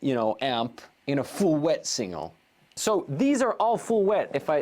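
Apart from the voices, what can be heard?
No everyday noise stands out behind the speech.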